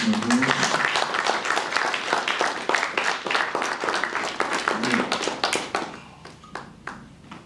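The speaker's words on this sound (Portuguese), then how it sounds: "a quem eu peço uma salva de palmas mais uma vez" A crowd at an Angolan judo association's election meeting claps in a burst of applause that gradually thins out into a few scattered claps at the end.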